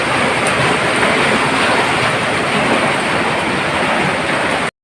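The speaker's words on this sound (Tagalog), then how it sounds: "bumuhos na talaga itong malakas na ulan" Heavy rain pouring down outdoors, a loud, dense and constant hiss of falling water that fills the whole stretch without pause, then cuts off abruptly at the end.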